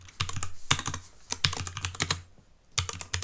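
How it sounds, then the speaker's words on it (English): Fast typing on a computer keyboard, with bursts of close, crisp key clicks separated by short pauses and no voice over them. "keyboard."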